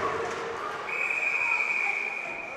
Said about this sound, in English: When he heard the whistle go.